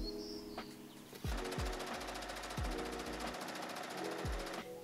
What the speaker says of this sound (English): sew that side to the side piece of the bodice